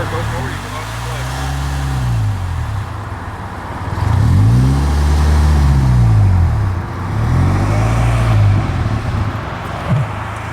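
A Lamborghini Urus pulls away as its clutch engages, the engine note swelling and climbing in loud, rising surges that ease off and build again, with people talking over it inside the cabin.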